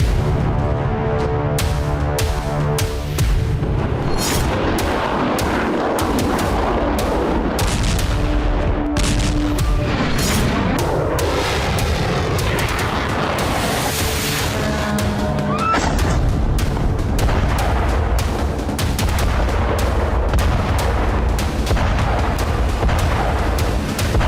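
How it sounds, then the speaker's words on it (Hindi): Russian strikes on Kharkiv set off heavy explosions. Dense, loud booms and crackling blasts sound continuously with rumbling bursts throughout. "रूस ने इन दोनों धमकियों का जवाब बारूद से दिया। खार्किव को एक बार फिर दहला दिया गया।"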